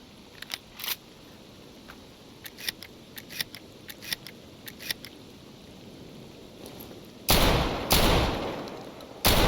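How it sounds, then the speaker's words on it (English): A Beretta 1301 shotgun fires in the Stalker Zona mod: a string of faint mechanical clicks, then three loud, close booming blasts spaced about a second apart near the end. "we have a new shotgun, the Beretta 1301, highly detailed, fully animated shotgun which should help you keep those mutants at bay"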